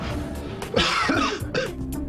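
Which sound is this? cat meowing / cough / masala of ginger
cough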